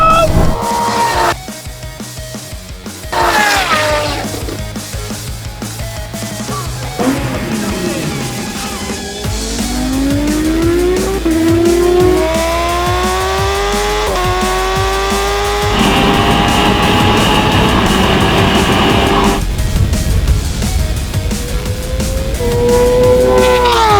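A Porsche drifts with drawn-out tire squeal and rising engine revs, loud and close, the screech sliding up and down in long sweeps over the motor's roar.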